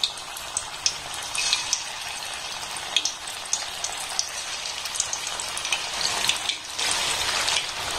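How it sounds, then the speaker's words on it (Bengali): Marinated chicken pieces fry in a wok over a gas flame, giving a continuous soft sizzle and crackle with scattered small pops, fairly quiet and with no talk. "এইভাবে একটা কড়াইতে যতগুলো ধরবে আমি ঠিক ততগুলো দিয়ে খুব ভালোভাবে ভেজে নেব"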